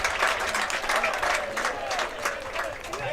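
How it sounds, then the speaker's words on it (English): Home baseball crowd at a ballpark applauds and cheers a stand-up two-out double, a steady wash of clapping with a voice talking over it throughout. "A big round of applause from the Capitals fans here"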